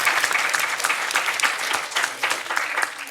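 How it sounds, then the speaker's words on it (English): Dense, steady audience applause at an award ceremony for a moot court competition, many hands clapping together at close range, loud and continuous throughout. "So applause for them."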